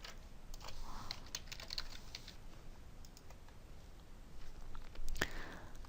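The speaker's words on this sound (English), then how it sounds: "I can just type in my keywords and I can click search" Quiet keystrokes tapped out on a computer keyboard as search keywords are typed in, soft clicking bursts in a steady run with no talk.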